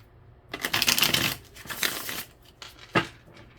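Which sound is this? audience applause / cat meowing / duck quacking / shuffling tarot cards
shuffling tarot cards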